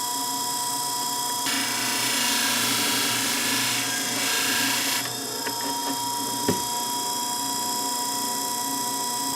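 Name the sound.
shear blade being polished on a Scimech Jr flathone sharpener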